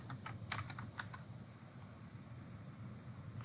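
Typing on a computer keyboard: a handful of crisp, irregular key clicks in the first second, then a quiet hiss with faint scattered taps, close and alone.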